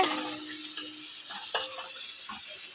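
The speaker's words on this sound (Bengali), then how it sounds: "মা ডাল সাতলাচ্ছে" Dal being tempered in a pan in a home kitchen, with a steady bright sizzle of frying throughout and a few soft stirring scrapes, fairly close and without talk.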